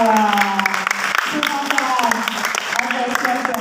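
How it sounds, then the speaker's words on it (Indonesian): Audience applause at a Sunday morning Islamic study gathering, dense clapping running under a voice that talks over it the whole time. "Tepuk tangan buat kakak yang di belakang."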